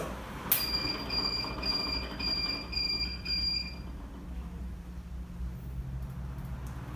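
A sharp snap as two inverter lines are short-circuited, followed by a high-pitched electronic alarm beeping in rapid pulses for a few seconds, then stopping, leaving low hum.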